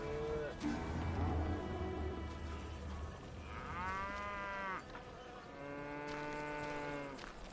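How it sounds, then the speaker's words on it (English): Cows moo repeatedly in the video game Call of Juarez: Gunslinger, in long, drawn-out calls over a steady background hum, with a few voices in the mix. "Lots of moo cow going on."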